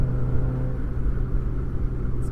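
A modified 1990s Mazda MX-5 NA Miata engine pulls through its cam transition around 4,500 rpm, a steady close in-cabin drone and rumble over a short stretch of driving.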